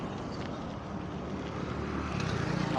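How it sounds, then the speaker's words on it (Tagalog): Heavy road traffic on the way to the Philippine Arena, a loud continuous rumble of many engines that swells slightly toward the end, with no talking. "ang daming sasakyan, kaya maingay"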